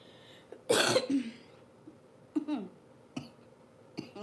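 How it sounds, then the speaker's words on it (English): A few hoarse coughs and throat-clearing bursts, one strong cough early followed by several shorter ones, close and fairly loud. "Cough, cough."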